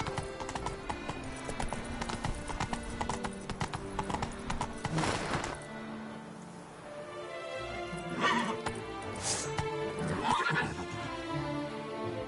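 Roach, Geralt's horse in The Witcher 3, galloping with rapid clip-clop hoofbeats under game music, breaking into two loud neighs and whinnies near the end.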